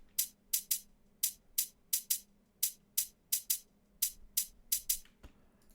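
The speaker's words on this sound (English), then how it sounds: "I'm using a really simple hi-hat rhythm." A simple programmed hi-hat rhythm in an electronic dance production, crisp bright closed-hat ticks repeating at a steady even pulse, heard alone and close with nothing else in the mix.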